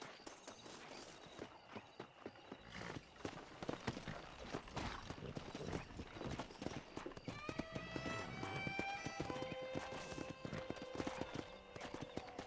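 Horse hooves clip-clop in a steady trotting rhythm in the video game Red Dead Redemption, fairly close, with a neigh and some game music rising in the latter half.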